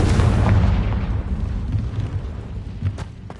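A Confringo spell explosion in the game Hogwarts Legacy bursts loud and deep at once, then rumbles and fades over a few seconds.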